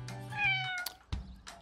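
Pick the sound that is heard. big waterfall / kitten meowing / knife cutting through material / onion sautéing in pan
kitten meowing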